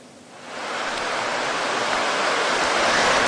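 The swift, flooding current of the Serayu river in Cilacap, Central Java, a broad roaring wash of water that swells quickly and then holds loud and steady.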